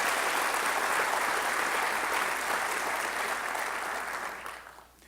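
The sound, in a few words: audience applause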